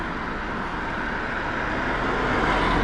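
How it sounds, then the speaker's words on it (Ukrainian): A Volkswagen car passing on a street, a steady broadband road rumble that swells slightly toward the end, with no voices. "вон їде якась, а, ось Volkswagen"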